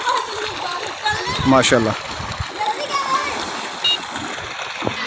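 Children splashing and bathing in a village pool fed by a tubewell, lively close splashes and sloshing water with children's voices, and someone speaking briefly over the scene.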